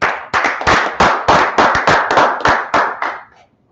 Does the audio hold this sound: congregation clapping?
yes